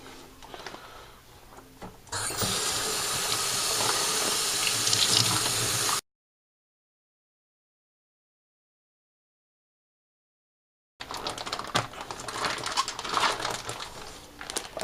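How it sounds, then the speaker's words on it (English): A tap runs loudly into a winemaking primary fermentation bag, rushing water that cuts off abruptly, then after a silent gap resumes with splashing and clinking. "I'm going to fill this bag up with water."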